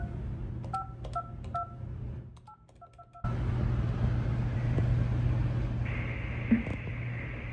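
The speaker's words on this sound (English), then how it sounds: "I decided to dial that number today" A touch-tone telephone number is dialed, a quick series of short beeping tones in irregular bursts, followed by a steady hum of line or road noise.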